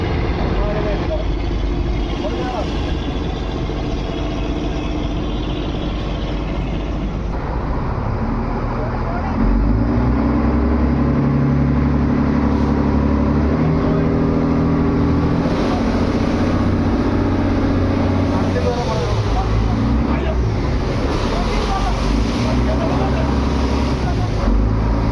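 A traditional fishing boat's engine reverses at sea, a steady, close low rumble that grows louder and fuller partway through, with voices faintly present underneath.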